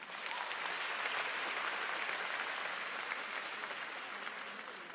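Dense, steady applause from a large audience at a Miss Grand Thailand farewell ceremony, loud and continuous for the whole stretch with no break or talk over it.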